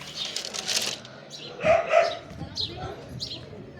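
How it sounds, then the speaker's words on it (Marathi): Dogs barking a few times at middle distance, with birds and faint voices around in an outdoor setting. "हे इथं कुत्र्याची गँग आहे गाईस"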